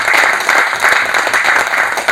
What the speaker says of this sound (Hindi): एक जोरदार तालियों से आपके हमारे स्पीकर